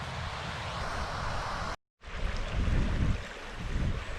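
Running water from a stream tumbles down a sheltered Pennine valley in a steady broadband rush, fairly faint and mixed with wind noise, broken by a brief silent cut partway through, with no talk.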